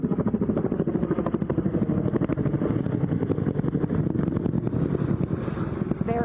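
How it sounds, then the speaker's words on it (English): Helicopter flying over a Los Angeles wildfire, its steady rotor chop and engine drone loud and continuous throughout without pause, close and constant with no speech over it. "I'll let you listen to the chopper noise here."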